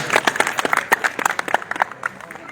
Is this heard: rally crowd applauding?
yes